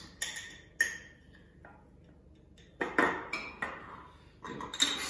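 A dessert spoon scoops porridge oats and buckwheat flakes into a cooking pan, giving several sharp, irregular metallic clinks and scrapes up close, with quiet gaps between them.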